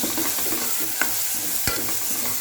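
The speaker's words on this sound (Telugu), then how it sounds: "ఈ మసాలాను మనం పోపులోకి వేసుకొని బాగా వేయించుకుందాం" Masala frying in tempering oil for stuffed brinjal curry, a close, brisk sizzle with quick spoon scrapes and a couple of sharp knocks against the pan over a few seconds.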